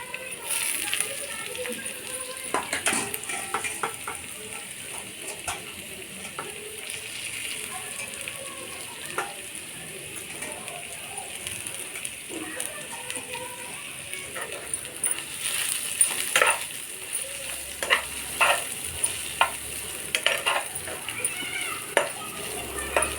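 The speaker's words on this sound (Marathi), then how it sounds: "मुळ्याच्या शेंगा टाकून घ्यायच्या त्याच्यामध्ये" Radish pods stir-fried in a pan over a low flame for a dry sabzi, with a steady sizzle and repeated spatula scrapes and taps while someone talks throughout.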